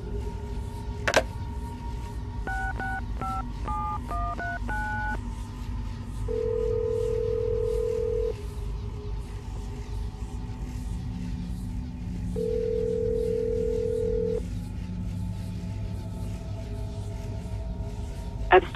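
Telephone dialing in the video game Assassin's Creed Brotherhood: a rapid series of DTMF keypad beeps, then two steady dial-tone bursts separated by a pause, over a low background hum.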